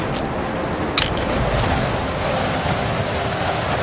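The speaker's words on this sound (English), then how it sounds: "we're encountering strong winds at these altitudes" Strong wind roars steadily across an exposed high mountain pass in Torres del Paine, a dense broadband rush that fills the whole stretch with a brief louder buffet near the start and no voices.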